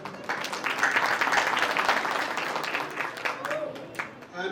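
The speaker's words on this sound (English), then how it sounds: "Please give a big round of applause to yourself as well." An audience at a school annual day applauds in a dense, sustained wash of many hands clapping, fairly close and loud, tapering slightly near the end with a few scattered claps.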